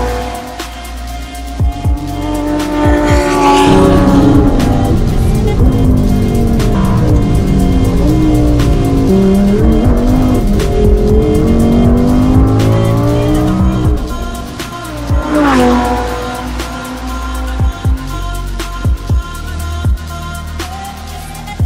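Race car at speed on a circuit during a South African Endurance Series qualifying session, engine loud and continuous with rising and falling revs through gear changes, tyres squealing in corners, a brief drop then another rising pass.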